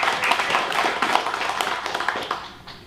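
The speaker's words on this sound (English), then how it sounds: "Yes, we should clap." A church congregation breaks into clapping, a brisk scatter of hand claps from many people that is fairly loud at first and then thins out and fades toward the end.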